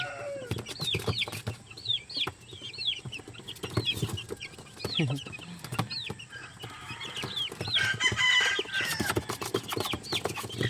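Golden boy sweater chicks chirp in a brooder, a dense chorus of rapid high peeps close by with scattered louder calls, continuous throughout with no talk.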